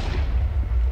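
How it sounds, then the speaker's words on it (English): Explosions in the video game Technomancer, a single second of deep rumbling booms, loud and heavy in the low end, with no voices. "I hear all these explosions,"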